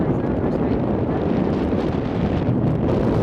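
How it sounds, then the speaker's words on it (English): Wind buffets a microphone outdoors in Washington DC, a steady, fairly loud rumbling gust noise with no clear pauses over a few seconds. "Wind in my hair."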